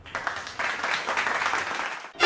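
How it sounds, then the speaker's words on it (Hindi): A burst of applause sound effect from a crowd, many hands clapping steadily for about two seconds before it cuts off, in BGMI mobile game commentary. "तो मेरे लिए गाइस हो जाए अभी तालियां"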